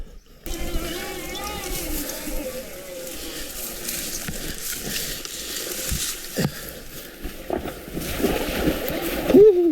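Splashing water from a 2023 Electric Motion Escape R hybrid electric motorcycle riding through wet, muddy valley trails on Oahu in winter, a steady sloshing spray running through the whole stretch with a louder surge near the end.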